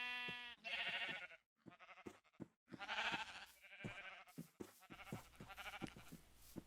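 Sheep in Minecraft bleating several times in a row, with drawn-out, wavering calls separated by short pauses, clear and fairly close.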